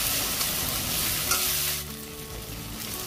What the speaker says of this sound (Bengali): যেহেতু এখানে মশলাগুলোকে আমি বেটে নিয়েছি, সেজন্য আমার ভালো করে এটাকে কষাতে হবে, যাতে কাঁচা গন্ধটা না থাকে।